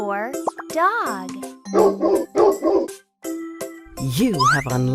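A cartoon dog barks about three times in a quick, close run in a kids' alphabet animal-sounds game. Springy plops and a chirpy voice come just before and after the barks.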